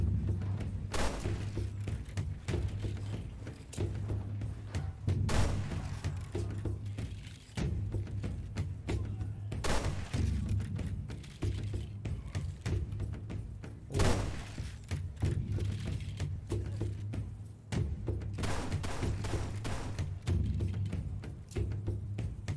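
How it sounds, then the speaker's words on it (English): Musket volleys from Lion Fire units in a video game land as several broad, booming bursts spaced several seconds apart, over a steady low hum and busy background game noise. "Their volley is pretty nice and accurate, with penetrating capabilities"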